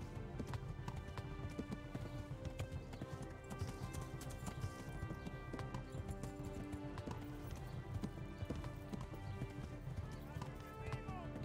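A horse gallops during a race in Kingdom Come: Deliverance, its hooves beating a steady, rapid clip-clop throughout. The hoofbeats sit under a dense bed of other game sound.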